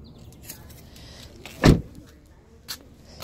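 Doors of a 2020 Honda HR-V slam shut: a loud, close, solid thud followed about a second later by a second, softer door shutting, with quiet ambience in between and no talk.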